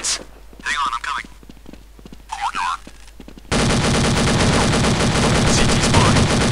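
Counter-Strike: Condition Zero gunfire, with sparse clicks and brief radio chatter giving way to a sustained, loud stream of rapid automatic fire that fills the second half.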